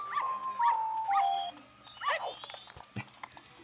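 A dog whimpers in high, rising yips, then barks a few times at close range, with a faint voice in the background.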